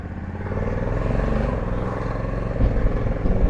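Steady engine drone from a 2020 Honda Africa Twin Adventure Sports ES being ridden on the road, its tone rising and shifting as it works through gears, with a louder surge near the end.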